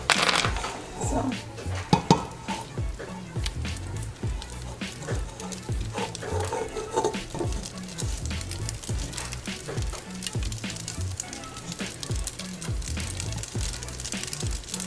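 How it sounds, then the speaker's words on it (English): Spaghetti coated in butter and green chile sauce being stirred in a pan on low heat, with soft repeated scraping and light sizzling at a steady rhythm, close up. "And just mix your spaghetti."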